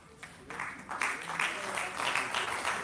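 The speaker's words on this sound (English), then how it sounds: "let's give a great round of applause" An audience at a creative content symposium applauds the introduced guests, a moderate burst of clapping that starts softly and swells, heard somewhat distant in a hall.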